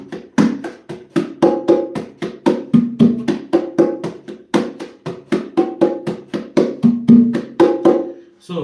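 Steady conga rhythm played on bongos, sharp slaps and deeper open tones repeating in a quick, even pattern, close and fairly loud with no talking.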